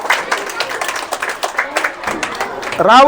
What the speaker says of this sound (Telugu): చప్పట్లు కొట్టి ధన్యవాదాలు తెలియజేస్తుందిగా